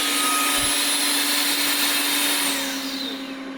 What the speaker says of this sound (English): Start self-cleaning.